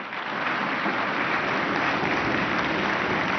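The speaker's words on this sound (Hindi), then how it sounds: "जोरदार तालियां लगातार बजती रहनी चाहिए।" Sustained audience applause at a national conclave in India, a broad, even roar of many hands clapping that swells in quickly and holds loud and steady with no voices over it.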